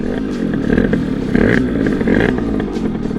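Sherco Supermoto 50 with an AM6 big-bore kit and off jetting, its small two-stroke engine running steadily and close by, with a brief rise in revs midway and no talk over it.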